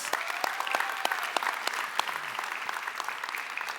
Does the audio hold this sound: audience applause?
yes